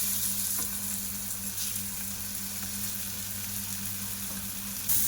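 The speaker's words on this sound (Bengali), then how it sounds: "দিয়ে এবার উল্টে পাল্টে একটু ফ্রাই করে নেব।" Skewered chicken and mango kathi kebabs fry in butter in a pan, giving a steady, close, even sizzle with no pauses and faint stirring.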